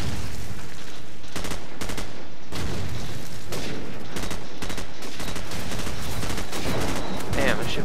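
M16 rifle fire in Call of Duty 4 rattles in repeated quick bursts over continuous loud game noise, with a voice talking over parts of it.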